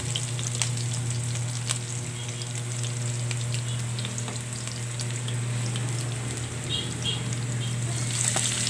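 Ingredients browning in a pan for pork mechado sizzle continuously and loudly, with occasional stirring clicks and crackles, close up and with no voices.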